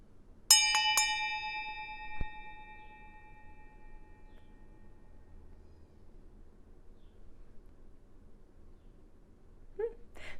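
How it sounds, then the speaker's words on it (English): A single bell struck once, ringing with a bright metallic tone that fades out over a few seconds in a quiet room, followed by near silence and a faint brief sound at the end. "Did you hear when the bell sound stopped? It's a beautiful sound, isn't it?"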